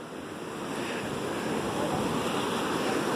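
Pacific Ocean surf at Muir Beach, California, roars steadily and close with a broad, continuous wash of breaking waves, building slightly in loudness, with wind buffeting the microphone.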